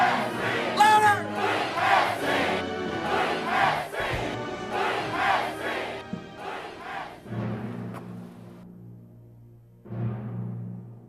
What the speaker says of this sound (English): I want beat, S-C, and I want it to echo on 3.